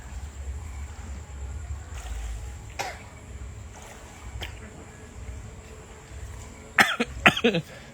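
A short burst of coughs near the end, sharp and close, after a stretch of low rumbling background noise.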